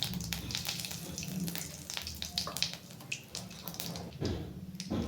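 Cumin seeds and asafoetida crackle and sizzle in hot oil in a home kitchen while egg curry is being made, a steady close hiss with dense popping throughout and no talk.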